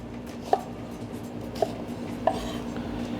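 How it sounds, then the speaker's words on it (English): Rough chopping of leeks with a knife on a cutting board, three sharp, separated chops spaced about a second apart over a steady low kitchen hum. "I have here some leeks that I'm just going to rough chop as well."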